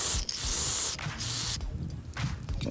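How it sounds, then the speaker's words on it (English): Aerosol cleaner sprayed onto the mass airflow sensor and throttle body of an 11th-generation Toyota Corolla: steady hissing spray in several long bursts with brief pauses, close and fairly loud. "So I'm just gonna spray right this area here,"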